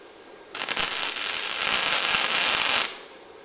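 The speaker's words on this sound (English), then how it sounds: "little wire welder sure is handy" A small wire welder fills holes in the steel of a trailer, with a loud, close, continuous crackling sizzle that starts and stops abruptly and lasts about two and a half seconds.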